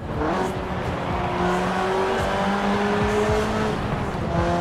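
Car engine in the racing game Forza Horizon 4, a steady loud droning motor with rising and falling pitch as it revs and drives, with some tire and air noise, alone without talk.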